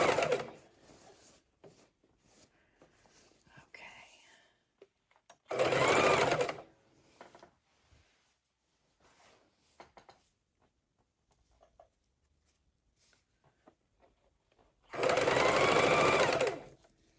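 A sewing machine stitches fabric for a homemade rag tie room divider in two loud, steady bursts of rapid whirring, with quiet handling sounds and pauses between them.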